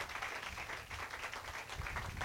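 A church congregation applauding a preacher: dense, steady clapping from many hands, sustained throughout and heard at a moderate distance.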